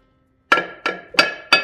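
Four sharp metallic hammer strikes ring out at a steady pace while a part is knocked off a Bitzer screw compressor during disassembly. Each blow is loud and close, with a short clanging decay.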